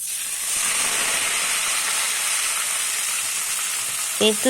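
A spice paste of dried bhut jolokia chilli, cardamom, cloves, cinnamon and ginger sizzles loudly in a pan while being stirred for chana masala, a steady hiss that breaks into a few clinks near the end.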